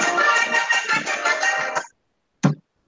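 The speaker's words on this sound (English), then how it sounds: "Is that your ringtone?" A phone ringtone plays loudly and steadily for nearly two seconds with a bright, tonal melody, stops, then a short separate burst follows after a pause, heard during a class workshop.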